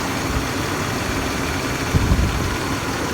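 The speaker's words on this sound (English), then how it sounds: "with the compressor running" A GMC 3500HD engine idles with its AC compressor running, a steady close low rumble holding even throughout with a brief slight swell near the end.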